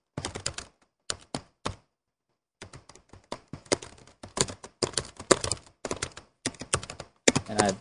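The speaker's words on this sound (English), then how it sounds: "Then you can type in some text." Keystrokes on a computer keyboard as text is typed, coming in quick irregular bursts of clicks with short pauses between, close and fairly quiet, no talking.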